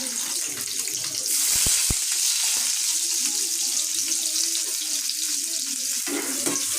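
Onions added to hot oil with garlic already browning, frying in a pan with a bright, steady sizzle that stays level and close for several seconds, with a few sharp clinks near the start.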